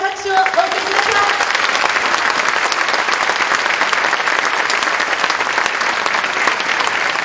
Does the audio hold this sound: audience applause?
yes